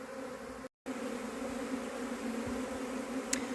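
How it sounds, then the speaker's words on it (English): A continuous, steady drone of many bees buzzing nearby, a low humming swarm sound that fills the air without pause. "being surrounded by flying bees and landing on my hands"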